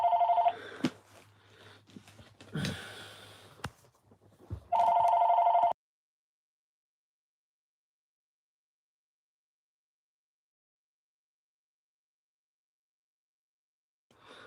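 A telephone rings in a quiet room, a few close electronic trills in short bursts followed by a long silence, with a brief ring returning at the very end and no talking over it.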